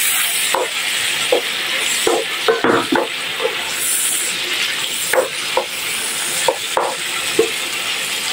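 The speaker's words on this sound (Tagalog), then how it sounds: "At haluin ulit natin." Ampalaya and pork belly stir fry sizzling steadily in a pan, with a spatula scraping and stirring in short repeated strokes over the constant frying hiss.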